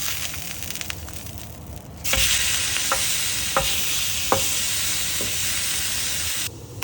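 Salmon sizzling on a hot griddle, a steady, loud frying hiss that jumps up after two seconds and holds, with a few soft clicks and scrapes over it.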